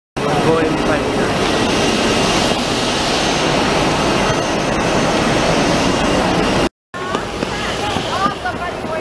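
Jet airliner landing at Bali airport, a loud continuous roar of engine and rushing air heard from inside, with a brief cut before the noise resumes.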